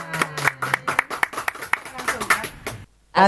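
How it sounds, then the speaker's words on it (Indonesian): Applause for a PABP teacher from SDN 250 Jayapura, a run of sharp, uneven claps with people talking over them, stopping abruptly before a voice resumes. "Tepuk tangan."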